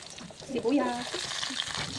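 Onions sizzle in a hot pan for a kangkong adobo, a soft frying crackle that swells partway through and then settles into a quieter hiss, faint overall.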